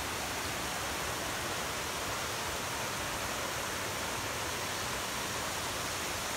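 A clean, unpolluted river rushes steadily through a natural forest setting, producing a dense, unbroken roar of flowing water that holds constant throughout with no voices.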